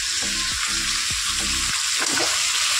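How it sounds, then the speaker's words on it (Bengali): Meat and potatoes fry in a pan with a steady, loud, close sizzle, broken by several scraping stirs of a utensil. "মাংসটা ভেজে আলুটা ভেজে নেবো।"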